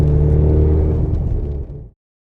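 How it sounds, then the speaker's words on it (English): Racingline-tuned VW Golf R MK7 demo car making 520 hp, its engine droning loud and close with a steady low rumble under load for nearly two seconds before cutting off sharply. "I really enjoy driving Racing Line's demo car"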